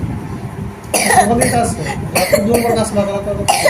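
Repeated harsh coughing bursts, close and fairly loud, coming in a rapid run of several coughs with brief pauses between them.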